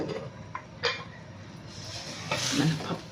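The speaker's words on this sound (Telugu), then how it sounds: "ఒక్కసారి మిక్స్ చేసుకుందాం" A spoon scrapes and clinks against a pot while mango dal is stirred, a few soft, irregular scrapes and taps at close range over a low background hiss.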